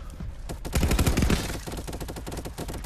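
Rapid gunfire from the Contractors VR first-person shooter, played on an Oculus Quest 2 in a Rust map, with dense overlapping automatic bursts that swell in the middle of the stretch and continue steadily with no talk.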